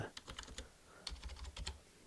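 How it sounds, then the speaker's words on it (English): Rapid light keystrokes on a computer keyboard in two quick bursts of soft clicks separated by a short pause, close and quiet in a calm indoor setting. "I accidentally typed the keyboard there"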